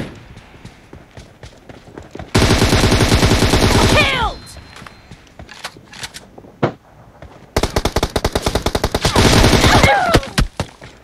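Rapid automatic gunfire in a team deathmatch shooter video game, two loud sustained bursts of fast shots separated by quieter scattered shots, footsteps and game sounds.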